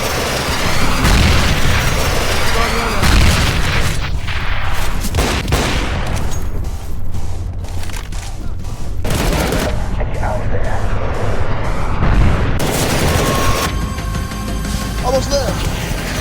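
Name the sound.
incoming missile explosions in Counter-Strike video game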